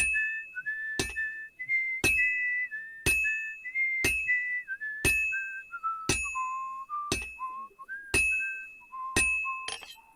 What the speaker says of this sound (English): I have to lower the volume every time I forge because the dinging sound is just way too loud